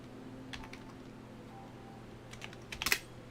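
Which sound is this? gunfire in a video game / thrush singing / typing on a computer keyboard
typing on a computer keyboard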